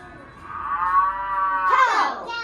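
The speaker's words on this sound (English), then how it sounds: "Cow. Cow," A cow lets out one long, loud moo that rises at the end, close and clear with no talk over it.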